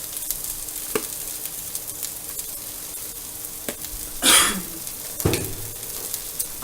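Zucchini frying in a small pan gives a steady, close sizzle throughout, broken by a couple of brief louder bursts as the pieces are stirred or tossed, with no talking.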